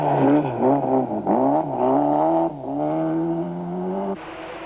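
A Toyota Conquest rally car on a stage of the 1992 Total International Rally, its engine loud and close, revving up through the gears with brief lift-offs between pulls.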